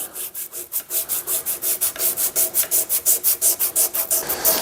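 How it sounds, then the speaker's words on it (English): Wood on a handmade jersey being burnished with a very fine Scotch-Brite pad, rubbed in quick, even back-and-forth strokes that make a steady rhythmic rasping, close and alone. "The last step is just burnishing this wood with that very fine Scotch-Brite pad from the automotive store"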